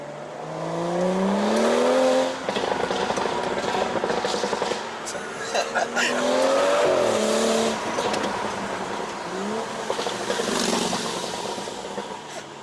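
A tuned Stage 2+ BMW 335i F30 engine revs repeatedly up and down, loud and close, with crackling exhaust pops and people talking faintly underneath.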